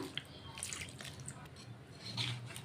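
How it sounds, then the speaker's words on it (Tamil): Half a cup of water is poured into a clay cooking pot holding a mango dish seasoned with pepper powder and salt, giving faint trickling and dripping for a few seconds with no voices. "அரை கப்பு தண்ணி ஊற்றிக்கலாம்."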